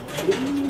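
A pigeon gives a soft, low coo at close range in a loft, a single short rolling call over faint background noise.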